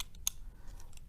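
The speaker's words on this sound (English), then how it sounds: "and a pair of scissors" A pair of scissors is handled at a craft table, a few faint metallic clicks and snips heard close up in a quiet room.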